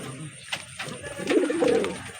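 A pair of Teti pigeons coo close by in a few soft, low, throaty bursts, with a faint background hum and no talking.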